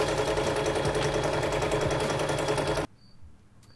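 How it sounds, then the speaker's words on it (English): A sewing machine stitches thick PVC material rapidly and steadily in a loud mechanical whir, then stops abruptly, leaving a quiet room. "The sewing machine was working great."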